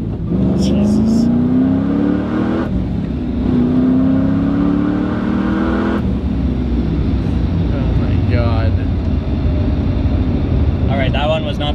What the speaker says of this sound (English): That one was not the best launch, a little bit too much gas, and it does start to kick out a bit.